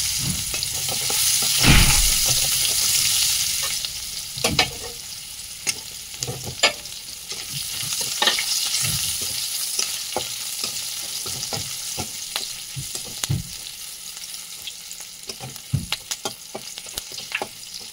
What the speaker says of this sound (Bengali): 2-3টে এলাচ, একটা তেজপাতা, পেঁয়াজ দিয়ে দিলাম।